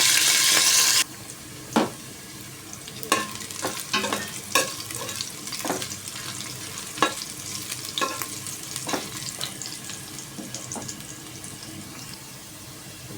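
Garlic and ginger sauté together in a pan, a soft steady sizzle punctuated by irregular clinks and scrapes of a utensil, with a brief louder burst of noise at the start.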